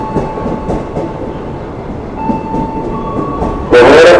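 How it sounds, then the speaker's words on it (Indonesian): A KRL commuter train on the Tanah Abang–Rangkasbitung line pulls into a station, with a low rumbling roll beneath the platform crowd noise and a sudden loud blast of the horn near the end. "Keretanya udah datang."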